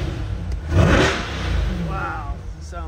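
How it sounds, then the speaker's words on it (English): A 2023 Chevrolet Corvette C8 convertible with NPP exhaust valves open gets a couple of quick revs, loud and close, the engine swelling and falling back toward idle. "let's give it a couple revs for you guys"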